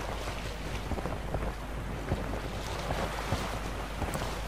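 A boat sailing fast in the video game The Witcher 3, with rushing wind and water spray blowing across the microphone, a continuous roar broken by occasional slaps against the hull.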